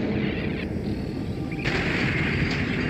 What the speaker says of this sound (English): Oh, everything is exploding!